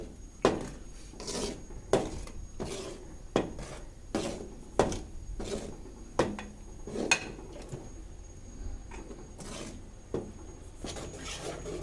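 Gram flour being stirred into sugar syrup in a pan, a series of sharp scraping knocks of a spoon against the pan at roughly one- to two-second intervals, close and clear with no talking.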